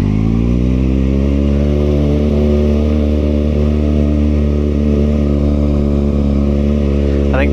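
A small plastic mini electric motorcycle runs with a loud, steady, close buzzing whine that holds an even pitch throughout, with no voices over it.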